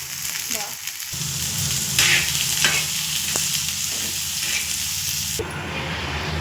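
Coconut, onion and masala roasting in oil for an egg curry, with a steady loud sizzle and hiss broken by several sharp stirring scrapes, and no voice.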